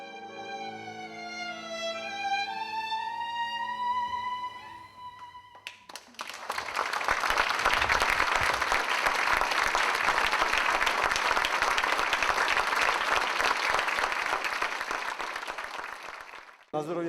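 Sustained, dense audience applause follows a violin and piano performance at a concert, loud and even for about ten seconds after the closing sustained notes of the music, then tapering.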